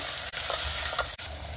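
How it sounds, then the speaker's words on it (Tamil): Steady sizzling of mushrooms frying in a hot pan with occasional scraping and stirring strokes, continuous and close, no voices. "இப்போ நல்லா பரட்டி விடுங்க"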